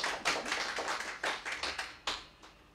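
A few people clapping in short, uneven bursts, fairly quiet, with brief pauses between the claps.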